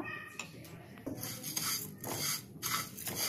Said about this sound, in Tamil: நல்லா இந்த மாதிரி கிண்டி விட்டுக்கிட்டே இருங்க, அப்போ தான் வந்து கருகாமல் இருக்கும்.